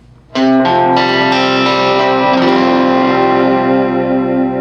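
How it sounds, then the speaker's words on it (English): An electric guitar rings through a delay effect, each picked note trailing off into a lingering, repeating tail that sustains without any talking. "this is one of the uses I have found for a delay, is that it just adds a tail to the note"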